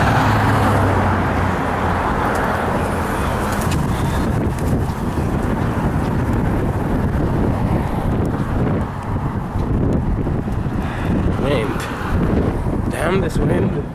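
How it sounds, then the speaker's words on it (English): Wind buffeting a microphone while walking to work beside light Monday-morning road traffic, with a continuous roar of passing cars and gusts, plus footstep-like clicks throughout. "This wind."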